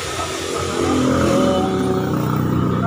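A Super 8 motorcycle fitted with an upgraded 63mm block, 150cc carb and added cams revs steadily, a loud continuous engine drone that swells in strength about a second in and holds.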